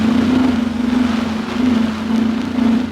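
A wind generator in stall mode overhead: a steady, droning howl with a low hum, constant and loud, wavering slightly in pitch with a rushing, noisy wash behind it.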